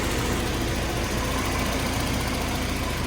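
A BMW E30 with an M42 engine, fitted with a retrofitted M44 timing chain guide, idles steadily with a constant, even hum.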